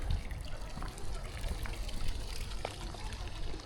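Water trickling outdoors near an Italian village, a steady close wash of running flow with faint murmurs of people in the background.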